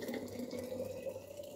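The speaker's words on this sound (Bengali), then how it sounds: "গরম জলটা ঢালবো এবার, বড্ড গরম দেখতেই পাচ্ছেন, এই যে থিতিয়ে গেছে একটু, এবার ঢেলে দেবো ফ্লাক্সে" Hot water pours into a flask in a soft, steady gurgling stream, brief and fairly quiet.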